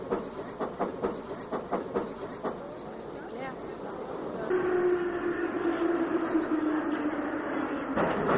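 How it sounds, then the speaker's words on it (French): A Soviet metro train in the 1980s clatters along with rhythmic wheel clicks, then a steady rising motor whine takes over as it runs, loud and close with the rumble of the carriage. "Peut-être le plus beau métro du monde."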